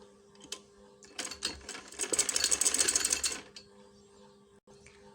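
A sewing machine stitches a kurti neck in a short burst of rapid mechanical whirring and clatter, about two seconds long, close and fairly loud, with quiet handling noises before and after.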